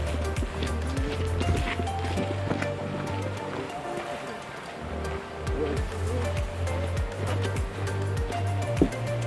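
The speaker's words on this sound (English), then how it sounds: "I can hear a waterfall." A waterfall at Forks of the Credit on the Bruce Trail in Ontario roars as a continuous broad rush of falling water, mixed with hiker voices and footsteps nearby.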